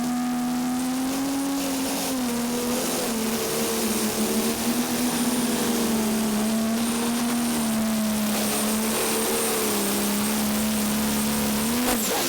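A 10,000-pound Pro Stock pulling tractor roars steadily at full power during a pull at a Tomah, Wisconsin event, a loud, sustained engine drone with slight pitch swells and no talk over it.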